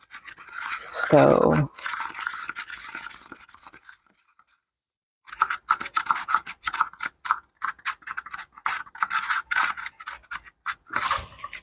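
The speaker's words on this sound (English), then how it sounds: "what you hear is the glow powder at the bottom of the cup" Gritty glow powder scrapes and grates at the bottom of a resin cup with a little alcohol, heard as a close, dry rasping in short uneven strokes, with a brief pause partway through and a single spoken word near the start.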